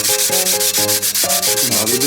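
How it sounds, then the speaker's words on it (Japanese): 40-grit cloth sandpaper is rubbed hard against a car brake rotor, producing a loud, close, continuous rasping scrape in rapid back-and-forth strokes, with no talking. "なるべくローターを削ってあげる。"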